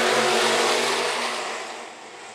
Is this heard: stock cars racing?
yes